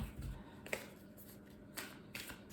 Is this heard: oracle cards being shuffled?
yes